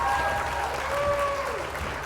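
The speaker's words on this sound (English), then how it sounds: "Round of applause for Nemesis," Crowd applause in The Sims game, a dense patter of clapping with a few high tonal game sounds gliding through, moderate and continuous, with voices mixed faintly underneath.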